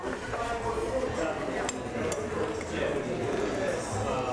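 Beef tartare (yukhoe) being mixed in a bowl with egg yolk, onion and pepper, giving soft, steady clinks and scrapes of utensil on dish throughout, with light background noise.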